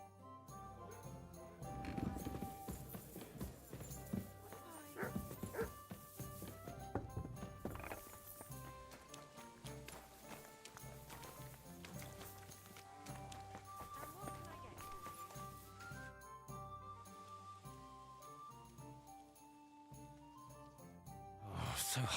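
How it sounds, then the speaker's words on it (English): Horse hooves clip-clopping in a video game, a steady trotting rhythm under game music and character voices, with a brief whinny. "Le cheval..."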